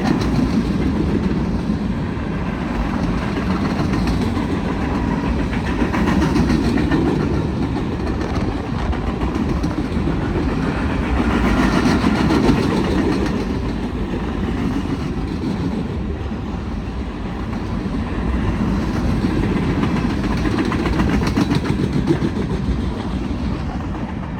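A Union Pacific freight train rumbles past steadily on the Black Butte Subdivision, with continuous rolling wheel noise and faint rhythmic clatter that swells slightly and stays loud throughout.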